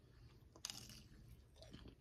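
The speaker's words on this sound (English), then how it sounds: "Y'all hear that crunch?" A bite into a crunchy jumbo fried fish tender from Captain D's, giving a short, faint crunch followed by quiet chewing, heard close up with no talking.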